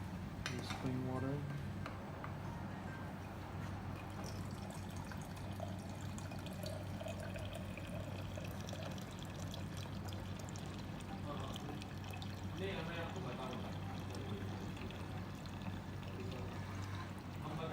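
Clean water is poured and splashes in a cleaning setup amid clinking dishes, a steady wet wash under a constant hum, with people talking throughout.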